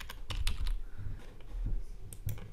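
Computer keyboard keys being typed on, a quick irregular run of clicks close to the microphone, no talking, as a command is entered at a Windows command prompt.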